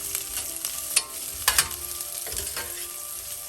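Onions sautéing for mutton chops give a steady close sizzle. Several sharp spatula clacks and scrapes break through it at irregular moments, and no one talks.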